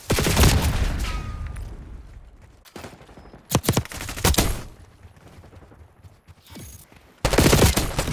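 Bursts of automatic gunfire crackle in Call of Duty, loud rattling volleys separated by short gaps and quieter stretches, with a heavy barrage at the start and another at the end.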